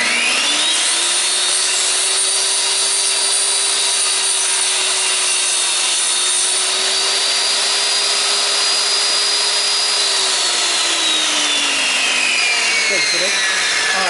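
A wooden leg is run through a power sander, whose motor gives a loud, steady whine with broadband grinding for about ten seconds before winding down near the end.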